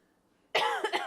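A single sharp, close cough bursting out of silence, followed by a couple of rougher hacking pulses.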